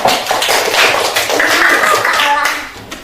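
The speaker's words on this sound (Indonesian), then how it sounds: "Kasih tepuk tangan." Classroom applause, a short burst of children clapping close by with voices and a little laughter mixed in.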